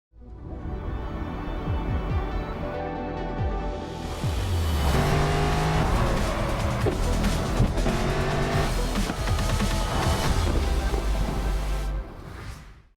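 A 2022 Mercedes-Benz SL63 AMG in the Racing Master video game revs and accelerates, engine rising through gear changes with tires squealing and skidding, loud and close, no talk.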